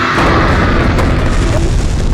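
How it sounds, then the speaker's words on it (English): Dense, continuous booming and crackling of fireworks going off, loud and sustained with no pauses between bursts. "Massive fireworks displays"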